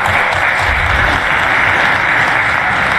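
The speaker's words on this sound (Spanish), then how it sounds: "Un aplauso para todos ellos." Sustained, dense applause fills a chamber of Venezuela's National Assembly, a steady loud wash of many hands clapping at once with no break across the whole stretch.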